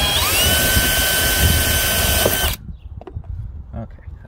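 A power drill bores holes through a boat console, a loud steady high whine for a couple of seconds that stops abruptly, followed by quiet handling sounds; a person talks nearby.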